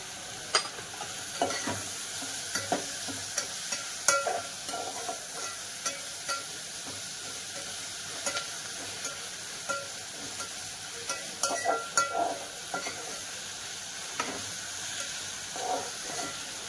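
Potatoes and onions stir-fried in a pan for Nilanga rice make a low, soft sizzle with frequent irregular scraping and clattering stirs, and no one talks.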